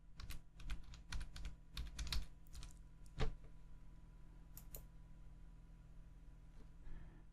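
Search term typed on a computer keyboard: a quick run of crisp key clicks in uneven bursts, then a lone louder keystroke and a few scattered taps over a quiet room hum.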